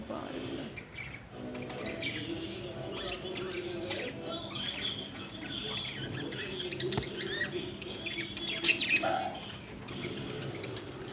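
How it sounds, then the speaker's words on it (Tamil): Several lovebirds in a cage give busy high chirps and squeaks with a louder squawk near the end, close by, mixed with soft household background noise. "நிறைய லவ் பேர்ட்ஸ் இந்த கூண்டில் இருக்கிறது"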